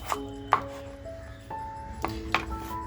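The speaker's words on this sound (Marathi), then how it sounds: "सिमला मिरची कापून घेते" A knife chops through capsicum (bell pepper) on a board, giving a few distinct close cuts spaced irregularly, with short pauses between strokes and no talking.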